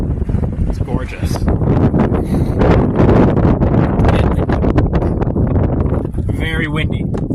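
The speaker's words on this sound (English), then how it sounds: "Very windy." Strong wind gusts blow outdoors during a storm chase, a loud, rumbling roar buffeting the microphone while a person talks over it.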